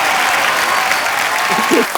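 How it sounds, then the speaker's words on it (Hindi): Studio audience applause at a comedy talk show, a dense, loud, steady wash of clapping that fills the clip, with a brief voice rising near the end. "एक बार सचिन जिगर के लिए जोरदार तालियां।"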